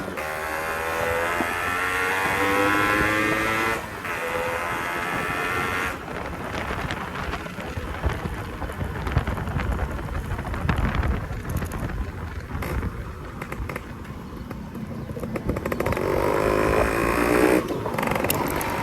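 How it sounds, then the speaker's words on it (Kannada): Exhaust of a Yamaha RX100 two-stroke motorcycle fitted with an aftermarket silencer, a steady rasping drone heard close by over wind buffeting, with revs rising and falling throughout. "ಒಳ್ಳೆ ಎಕ್ಸಾಸ್ಟ್ ಮಾತ್ರ ಸೈಲೆನ್ಸರ್ಗೆ ಸಕ್ಕದಾಗಿ ಮಾಡ್ಕೊಟ್ರು ರಾಜೇಶನ್ನ. ಕೇಳಿಸ್ಕೊಳ್ಳಿ ಹೆಂಗೈತೆ"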